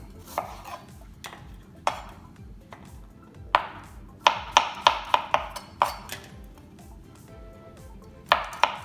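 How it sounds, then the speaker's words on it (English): A knife chops onions, tomato and garlic into small pieces on a cutting board for Mexican salsa roja, sharp irregular knocks coming in quick clusters, close and loud with no talking. "So I'm just gonna cut this really small pieces so we can blend this well."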